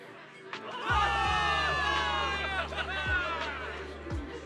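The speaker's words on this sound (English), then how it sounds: "Give it up for yourselves, soldiers! Cheer for victory!" Soldiers cheering for victory in a Zenless Zone Zero cutscene: a crowd roars and shouts together, loud and sustained, over a low rumbling music bed.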